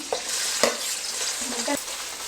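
Onions fry in hot oil as tempering for chicken fried rice, a continuous crackling sizzle broken by several sharp clanks of a ladle stirring against the pan.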